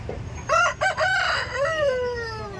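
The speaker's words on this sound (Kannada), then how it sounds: "ಇಲ್ಲೇ ಎಲ್ಲ ನಾಟಿ ಕೋಳಿಗಳು" A desi rooster crows close by at a chicken market, a loud stretched call with a drawn-out falling tail, over faint clucking from other chickens.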